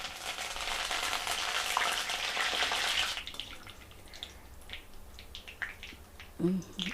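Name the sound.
mustard seeds and curry leaves frying in oil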